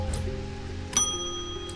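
A bell is pressed once in the video game Strange Antiquities, a single bright chime ringing out over a soft background ambience and fading away.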